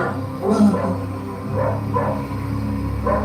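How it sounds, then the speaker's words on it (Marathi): A dog barks a handful of times at uneven intervals, fairly close, over a steady low background hum. "ही कुत्री का बोलताय झुडपाच्या बाजूला जाऊन बघा बर"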